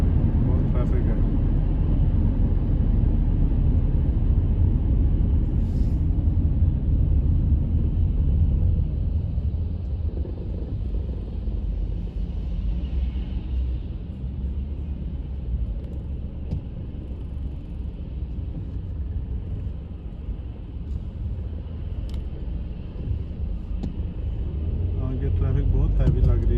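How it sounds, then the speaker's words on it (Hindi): Heavy road traffic crawls through rainy Dubai: a continuous low rumble of engines and tyres that stays loud and even and swells slightly toward the end. "ट्रैफिक बहुत हैवी लग रही है।"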